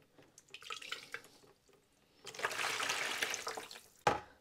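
Filtered water from a kitchen water purifier runs out in a trickling, splashing stream, fading briefly and then pouring steadily before a sharp knock at the end.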